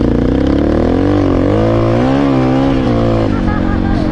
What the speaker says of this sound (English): Why did Yamaha stop making this bike? This thing's awesome. It sounds awesome too.